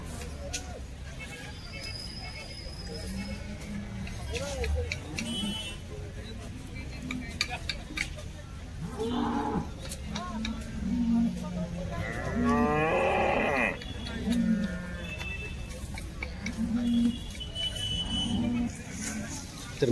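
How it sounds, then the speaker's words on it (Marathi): Cows lowing repeatedly at a busy cattle market in Baramati selling HF and Jersey cows and calves, several moos rising over steady crowd chatter and background voices. "आजचा या बारामतीचा गायींचा बाजार"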